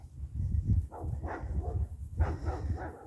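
Two hounds, one light reddish-brown, bark repeatedly at a garden on a mild January day, with loud close barks in quick uneven bursts and a brief pause between volleys.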